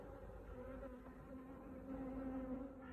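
Honey bees in a hive without a laying queen hum in a steady, faint buzz that swells slightly, with no voices.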